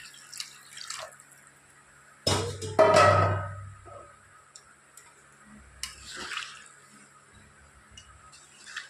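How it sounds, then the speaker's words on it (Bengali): Water is poured into a pan of chicken curry, a short splashing rush that rises and fades over about two seconds, surrounded by faint kitchen clinks and drips. "এবার আমি এর মধ্যে পরিমাণ মতো জল অ্যাড করে দেবো।"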